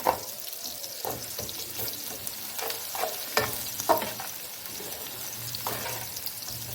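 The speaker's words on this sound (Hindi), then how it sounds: "ये देखिए प्याज सोते मैं कर रही हूँ।" Onions sauté in a pan, a soft sizzle broken by several sharp stirring scrapes and clinks of a utensil, fairly quiet and with no talk.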